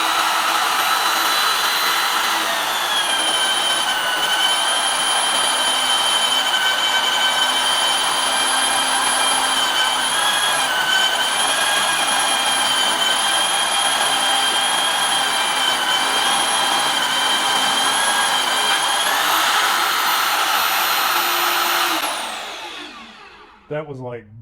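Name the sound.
Vevor magnetic drill cutting through metal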